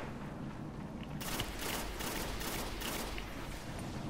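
Dense gunfire and explosive bursts from a firefight in the video game Destiny, including a grenade blast; several rapid broadband bangs repeat over a steady loud background, with no voices.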